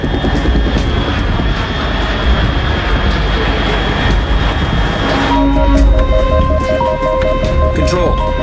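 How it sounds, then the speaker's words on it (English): Fixed-wing aircraft drone in Metal Gear Solid 3, a steady engine roar throughout, joined midway by electronic alert tones and game music, with a voice speaking over it. "Unidentified aircraft detected."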